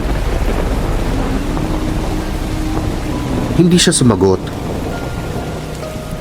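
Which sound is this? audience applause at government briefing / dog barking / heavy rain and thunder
heavy rain and thunder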